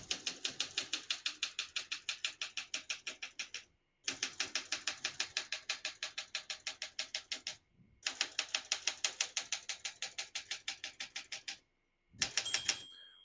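Rapid, even keystrokes on a 1964 Olympia SM9 portable typewriter, clattering in three long runs separated by carriage pauses, with a clear ring of the margin bell near the end, no speech.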